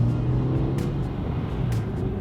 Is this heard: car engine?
yes